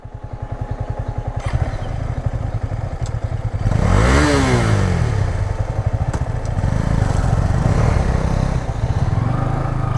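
Two motorcycles, a KTM Duke 250 and a Yamaha R15, struggle along a rough off-road farm track, engines loud and close with a steady chugging idle that swells into revving and accelerating, with clattering thumps over uneven ground.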